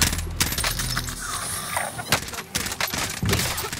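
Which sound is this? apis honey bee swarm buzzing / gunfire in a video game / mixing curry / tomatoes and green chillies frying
gunfire in a video game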